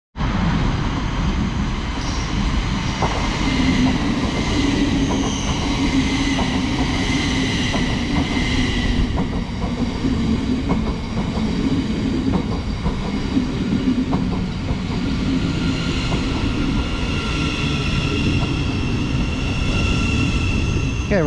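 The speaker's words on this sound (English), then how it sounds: "arriving in here is the 1313 Thameslink service from Three Bridges to Bedford" A Thameslink class 700 electric train pulls into Luton station on the Three Bridges to Bedford service, a steady loud rumble with rail clatter and squealing tones that holds for about twenty seconds, no talk.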